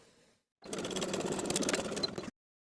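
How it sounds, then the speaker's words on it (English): Sewing machine edge stitching along the folded bottom edge of belt loops on stretch denim jeans: a steady, close mechanical whir with a fast stitching rattle, running alone for under two seconds and stopping sharply. "edge stitch along that bottom folded edge for each belt loop"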